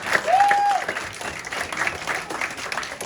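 A crowd at a Sante Barley product event applauds the host with a steady, moderate wash of clapping from a distance, and some voices and a brief tone are mixed in.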